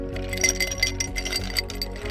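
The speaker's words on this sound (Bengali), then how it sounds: "এখানে আমি 2টো ডিম ফেটে নেব" Two eggs are beaten in a bowl with salt, a quick series of light metallic and glassy clinks that tap rhythmically against the bowl, close by, over a faint steady hum.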